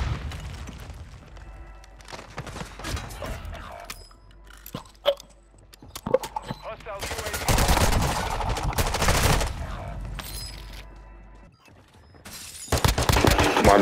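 Gunfire in Call of Duty: Modern Warfare II, scattered single shots and mechanical weapon handling sounds, then longer loud bursts of automatic fire, dropping briefly before another heavy burst at the end.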